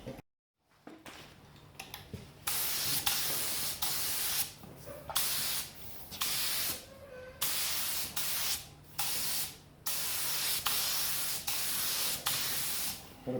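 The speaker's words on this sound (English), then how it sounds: "load the gun," A spray gun lays paint onto a motorcycle fuel tank in a long series of steady hissing passes, each burst of a second or so separated by short pauses, close and fairly loud with no talking.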